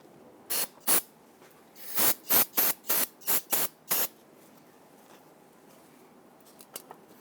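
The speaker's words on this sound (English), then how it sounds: "don't forget to spray this down with some solvent" Aerosol solvent sprays onto the brakes of a 2000-2006 Toyota Tundra to clear residual brake fluid, in short hissing bursts, two first and then a quick run of seven, with faint clicks afterward.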